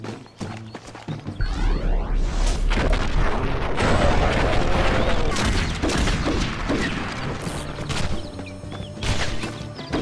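Gunfire in the Western shooter Red Dead Revolver, dense and sustained over roughly ten seconds, with repeated loud shots and booms layered on a busy game soundscape, hints of hooves underneath.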